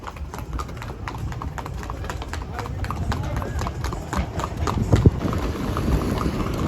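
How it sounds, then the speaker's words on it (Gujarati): A mare walks with a steady, rhythmic clip-clop of hooves, close and distinct, while voices talk over it. "બહુ સારી ઘોડી હાલે"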